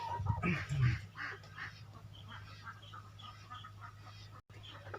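Ducks on a canal at a small self-sufficient farm give a short burst of fairly close quacking, then fade to faint, scattered calls in a quiet outdoor setting.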